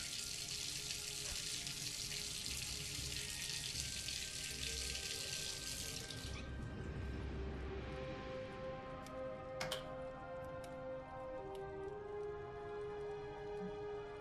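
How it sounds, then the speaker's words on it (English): A tap in the video game Myst runs loudly with a bright rushing stream for about six seconds, then shuts off and leaves quiet ambient tones with a few faint ticks. "you can turn the water on"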